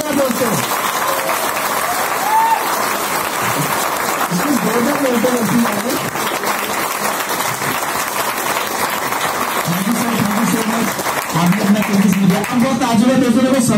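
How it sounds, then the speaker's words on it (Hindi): An audience applauds at a welcome event, a dense, sustained clapping that runs throughout while someone speaks over it. "तालियों जोड़कर ताली दीजिए, जोड़ना दोस्तों।"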